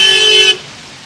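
A car horn blares loud and close in road traffic on a highway, one sustained honk that cuts off abruptly, leaving a faint traffic hum.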